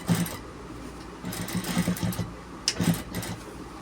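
A domestic sewing machine stitching a seam on a men's shirt, running in short steady bursts with brief pauses in between, close and fairly loud.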